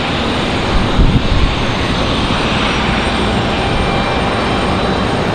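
A plane taxiing at Raleigh Durham International Airport gives off a loud, steady engine roar and broad rushing drone that holds constant, heard up close with no voices.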